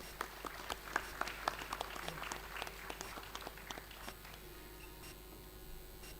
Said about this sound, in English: Let's give a round of applause for Pandit Tushar Datta